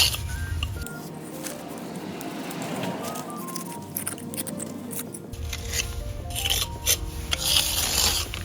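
Mortar joints between bricks in a garden flower bed being scraped out, a steady rasping scrape that continues throughout and grows harsher and louder in the second half.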